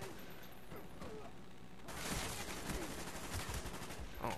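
FAMAS rifle fire in a shooter video game crackles in rapid bursts, faint and mixed with clattering mechanisms and background battle noise, the shots growing denser after the first couple of seconds.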